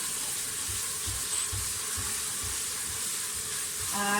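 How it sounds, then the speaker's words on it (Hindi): Onion and garlic-ginger paste frying in oil in a pan for a goat trotter paya curry, a steady close sizzle with faint rhythmic stirring scrapes underneath. "लहसुन अदरक का पेस्ट डाल दें, थोड़ी सी भुनाई करें।"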